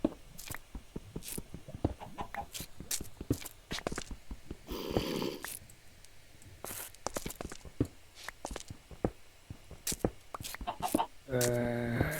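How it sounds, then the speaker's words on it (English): Chickens in a video game cluck in short repeated calls mixed with soft footsteps, and a louder squawk rises near the end. "Oh, it's a chicken jockey."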